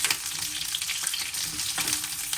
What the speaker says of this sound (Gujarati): જો તેલ મૂકી દીધું છે, થોડું ગરમ થાય ને પગણ થોડા તેલમાં એમને તળાવવા દેવાના